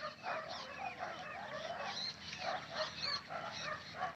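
Village dogs barking and fighting somewhere out of sight, a distant scuffle of yelps, snarls and barks repeating through a quiet rural background.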